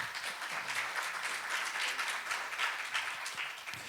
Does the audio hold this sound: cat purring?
no